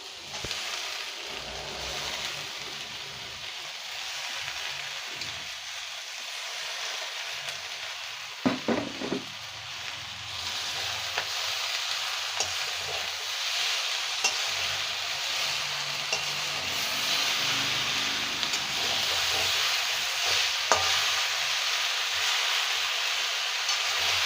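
Greens stir-fried in a pan for a village-style Bengali prawn dish, with a continuous hissing sizzle and scraping stirring strokes, close and steady, briefly louder with a few clatters partway through.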